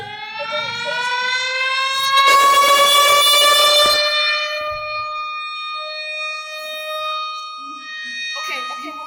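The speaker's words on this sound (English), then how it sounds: "I can hear ambulance sirens too" Outdoor tornado warning sirens wail in a long sustained tone that swells and slowly fades, with a burst of broadband noise midway and speech faintly audible near the start and end.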